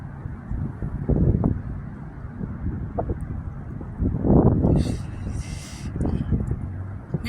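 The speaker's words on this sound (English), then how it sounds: "It's snowing. It's windy." Blizzard wind gusts roaring outdoors during a Christmas snowstorm in Casper, with low, steady rumbling buffeting the microphone and stronger surges around the middle and end, plus faint hissing bursts.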